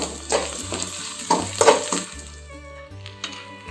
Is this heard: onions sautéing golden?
yes